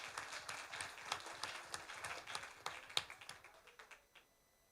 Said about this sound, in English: Shall we give HR a round of applause?